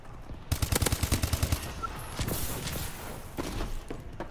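Gunfire in the Call of Duty video game: a rapid burst of automatic shots, loud and close, followed by scattered further shots and impacts.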